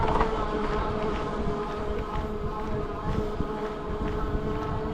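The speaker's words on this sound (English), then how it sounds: "Let's listen to the motor here." Steady electric hub motor whir on a cargo e-bike ridden while pedaling, a continuous hum with wind rush over the microphone, no speech.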